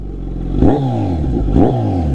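A motorcycle engine is revved hard twice for onlookers, each loud, close blip of the throttle rising sharply and then falling back to idle.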